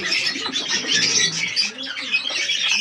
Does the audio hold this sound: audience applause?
no